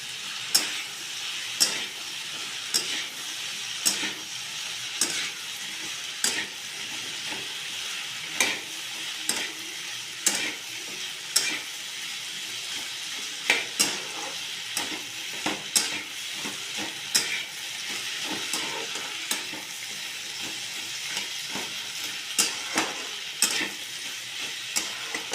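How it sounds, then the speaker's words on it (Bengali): Potato pieces and crumbled rohu fish heads fry in oil over a high gas flame, with a constant sizzle broken by regular sharp scrapes of a stirring spatula every second or so, close and alone. "এবার আমি গ্যাসটাকে একটু হাই ফ্লেমে রেখে আর একটু ভেজে নেবো আলুগুলোকে।"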